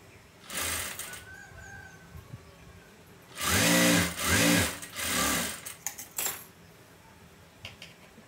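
Sewing machine stitching the lining of a boat neck blouse, running in short close bursts of rapid mechanical whirring separated by brief pauses, with no voices.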